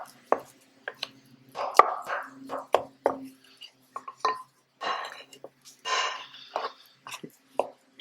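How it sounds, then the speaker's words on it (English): Butter being chopped into cinnamon for cinnamon roll filling, a knife or utensil knocking sharply against a bowl in an irregular run of close, crisp taps, with a voice talking now and then between the strikes. "just chop up the butter at this point"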